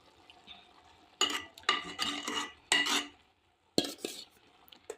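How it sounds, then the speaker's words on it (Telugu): Rice tipped into a pot of simmering vegetable biryani gravy, heard as several soft rushing, scraping pours from a spoon or vessel in close bursts with short pauses between them. "రైస్ అంతా వేసేసుకుందాం"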